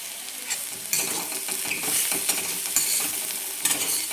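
Onion, tomato, chili and turmeric fry in hot oil for a village-style prawn chutney, a constant loud sizzle with a spoon scraping and stirring through the pan in uneven strokes up close.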